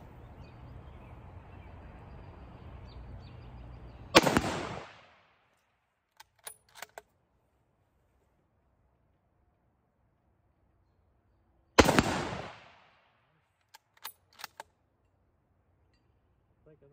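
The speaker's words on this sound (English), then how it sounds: "I'll just see if I can shoot these 5 times without missing for you guys." Two loud, sharp rifle shots from a Winchester Model 70 pre-64 in .30-06 Springfield fired at steel plates, several seconds apart, each followed by faint metallic rings and clatter, with quiet gaps between.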